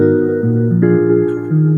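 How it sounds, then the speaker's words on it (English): The original chorus guitar part from the song plays alone, a clean, loud, sustained line of single notes moving stepwise through a short melodic phrase. "So this is the original guitar,"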